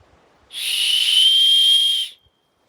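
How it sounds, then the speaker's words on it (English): A single sharp whistle blast outdoors behind a campground, high and piercing, held steadily for about a second and a half before cutting off into quiet. "I'll try a whistle."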